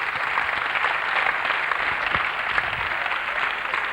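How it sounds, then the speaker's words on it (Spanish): Applause for the players at an international basketball clinic, a moderate, even patter of clapping in a large hall, held steady throughout with a single low thud near the middle. "Let's hear it for these guys, huh? Un aplauso para los chicos."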